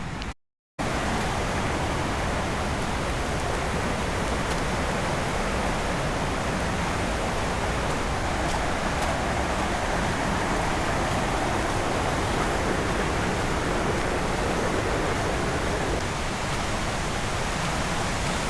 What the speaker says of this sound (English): there it is, the Princess Falls, flowing good